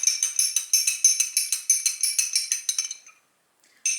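A spoon stirs a tablespoon of mixture in a glass of water, giving a quick, steady run of bright clinks against the glass. The clinking runs for about three seconds, stops, and then one last tap sounds.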